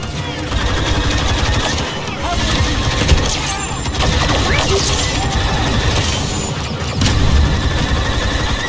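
Blaster gunfire from Star Wars Battlefront II, a co-op Resistance fight on Starkiller Base, crackles in dense, continuous volleys with occasional louder bursts and crashes, with speech mixed in beneath the steady barrage.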